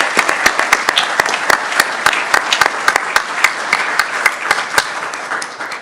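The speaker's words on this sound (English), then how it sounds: "Let's give her a big round of applause" Applause from the audience at a Newark City Council special meeting, dense claps with sharp individual hand claps standing out, steady and fairly loud for about six seconds.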